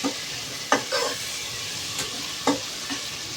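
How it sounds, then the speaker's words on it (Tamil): Ginger garlic paste sautéing in a pan for chicken biriyani gives a constant close sizzle, punctuated by several sharp scraping and tapping strokes of a spatula at irregular intervals. "நல்லா வதக்கிட்டே இருந்தேன், இல்லைன்னா அடி பிடிச்சிக்கும்"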